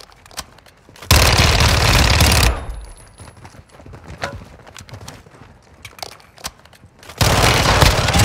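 Bursts of automatic gunfire in the Call of Duty Warzone DMZ game, set around the Las Almas gunrunner Machado: a loud sustained burst, a stretch of scattered single shots and faint clatter, then another heavy burst at the end.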